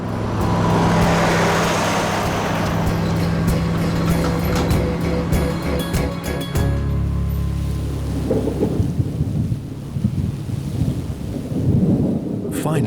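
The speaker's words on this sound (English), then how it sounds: "At last, the road train gets on its way." A road train truck in the Australian Outback pulls away: a loud, broad engine roar and rumble that fades and thins out as it leaves, with scattered rattling afterward.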